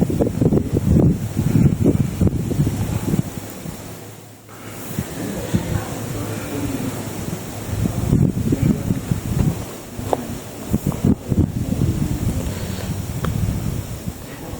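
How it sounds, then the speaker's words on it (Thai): Strong wind buffets the microphone at a hilltop viewpoint in Chom Bueng, Ratchaburi, roaring in loud gusts that rise and ease throughout with no talk. "ด้านบนลมแรงมากนะครับ"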